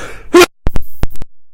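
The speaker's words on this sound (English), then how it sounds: "I have a sneeze coming." One sharp, loud burst like a sneeze, followed by several quick dull thumps and soft knocks close by.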